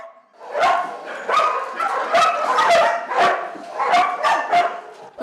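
Several dogs bark repeatedly in an echoing animal shelter in Kharkiv, a steady overlapping chorus of sharp barks with no pauses.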